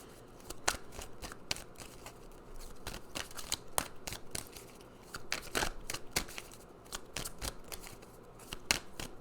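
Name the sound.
drawing oracle cards from a deck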